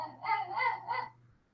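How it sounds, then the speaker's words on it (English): A dog at home gives a short run of three quick barks, somewhat muffled and moderately close, over a faint steady hum, then quiet. "I apologize if you hear my dogs."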